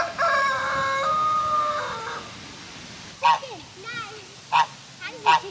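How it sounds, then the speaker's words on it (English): At a campsite, a rooster crows loudly in a long drawn-out call, then hens cluck in short, sharp bursts at scattered intervals, close by and with no one talking. "there's definitely chickens and geese and there's horses and that."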